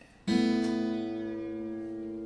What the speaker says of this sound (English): you do this pinch. And listen to me do it.